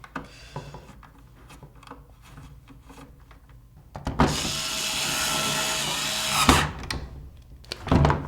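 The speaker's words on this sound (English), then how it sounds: "Now that I have it together, I'm just gonna screw it." A power screwdriver drives screws into a plastic Nerf Raider CS-35 blaster, a steady whirring burst lasting about two and a half seconds, preceded by quiet handling clicks and followed by a few short taps and a brief final buzz.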